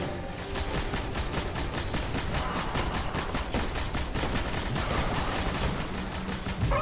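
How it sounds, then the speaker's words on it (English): LMG fire rattles nonstop in the Destiny video game, a steady, dense stream of rapid automatic shots at an even loudness throughout, with no talking. "I'm shooting him with LMG"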